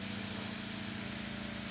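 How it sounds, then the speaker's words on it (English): Thin blue paint sprayed over a green base on scale model water, a steady continuous hiss running throughout with a low hum beneath it. "we could start spraying, oh God, that looks cool"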